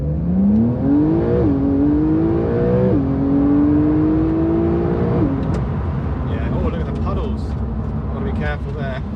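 A Porsche 911 992 Carrera 4S in Sport Plus mode, held in first gear, revs hard and close with a loud engine note that climbs in pitch in several surges, each broken by a quick drop, then settles into a rougher lower rumble.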